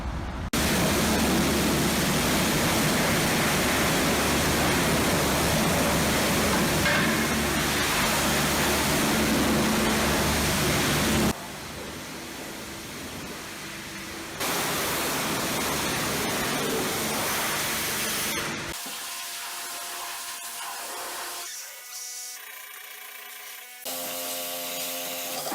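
A pressure washer sprays dirty car engine parts at a car wash, a loud steady hiss of water that runs continuously, cuts in level partway and is followed by a mechanical whine and hum.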